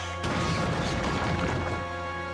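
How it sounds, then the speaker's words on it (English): A toy tramp steamer crashing into engine sheds in a storm, one sudden loud smash followed by a short rattling, clattering tail. "It was out of control and running aground, straight into the sheds."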